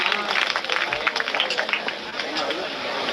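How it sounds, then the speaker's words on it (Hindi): Crowd applause at a Hindi-language association meeting after a speaker is introduced, a dense, steady wash of many hands clapping that holds at an even level throughout, with a faint murmur of voices mixed in. "एक बार जोरदार तालियां भाई वीरेंद्र दादी के लिए।"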